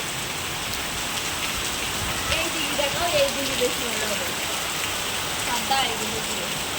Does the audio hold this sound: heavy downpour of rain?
yes